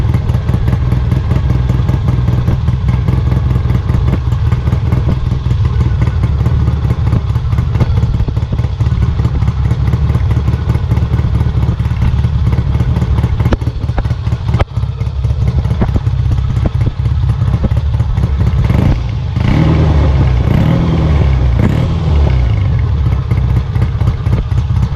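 A Kawasaki W1 motorcycle engine runs steadily and loudly throughout, a continuous low rumble with a clattery mechanical edge and a brief dip in the middle.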